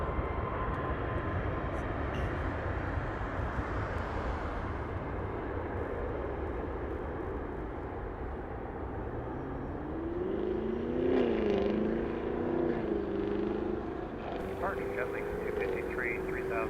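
A Southwest Boeing 737 jet at Las Vegas airport gives a broad, steady engine roar at a distance, with a rising whine near the end, under some faint background chatter.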